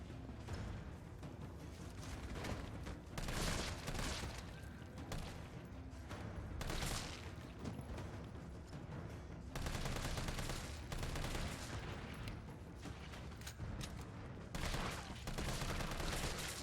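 Sustained submachine-gun fire from the Resident Evil 3 Remake video game, dense rapid bursts running almost continuously and loud, with brief gaps, and no talking over it.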